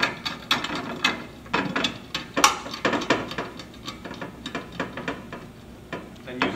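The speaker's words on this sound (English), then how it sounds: "Then using a 17th socket or wrench, just tighten it down." A 17 mm socket wrench ratchets a nut tight on a cable butterfly hanger, a rapid run of close, crisp clicking pawl strokes in quick bursts, loud and with no voices.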